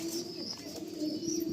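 Pigeons cooing softly at close range, low throaty coos repeating over faint background noise, with no talking.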